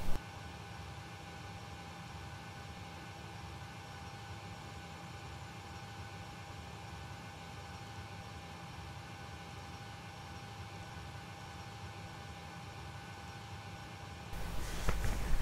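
A PMDG 737NG airliner in FSX sits in a steady broadband cabin-style engine drone with a constant hum, rising slightly louder near the end as the engines spool during pushback and start.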